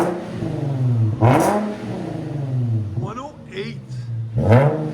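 A 2007 Infiniti G35 with a 3.5L V6 and Flowmaster Flow FX exhaust revs up close and loud, climbing and dropping in three sharp blips over a rumbling idle.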